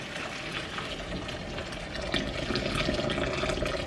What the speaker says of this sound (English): And then boiling water.